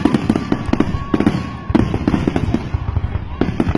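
Fireworks burst in rapid loud cracks and pops, a dense barrage of explosions close by, overlapping one after another with no break.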